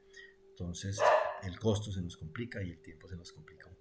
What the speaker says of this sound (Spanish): Perdonen el perro.